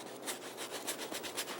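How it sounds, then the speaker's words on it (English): A paintbrush scrubs paint across canvas in quick, rhythmic back-and-forth strokes, faint and close, with no voice over it. "I'm going to scrub across that, cut that brightness just a little bit"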